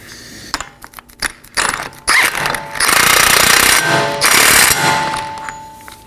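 Power tool snugging down a 32mm axle nut on a right front CV axle of a 2018-2024 Chevrolet Equinox. Several short, loud rattling hammer bursts give way to longer sustained impacting, close-up, with no talk.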